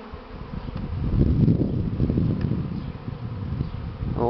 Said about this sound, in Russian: Куда наши пчелы решили привиться